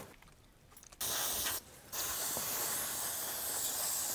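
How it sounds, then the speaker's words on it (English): Sharp hissing bursts of an insecticide aerosol spray can used during a rhino treatment, two short sprays and then a long continuous spray, close by with no talking. "We're gonna need that spray"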